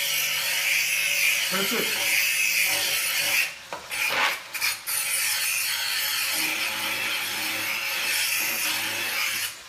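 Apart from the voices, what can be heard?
electric knife sharpener sharpening a $12 knife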